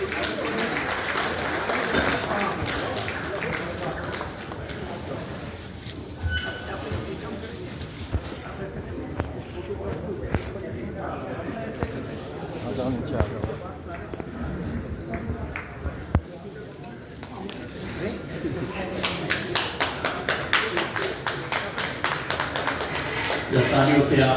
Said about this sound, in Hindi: तालियों से आप जोरदार स्वागत करते हैं।